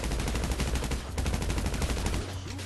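Rapid explosive shotgun fire in a video game, a dense run of loud blasts and impacts crackling continuously for a couple of seconds, close and relentless with no talking.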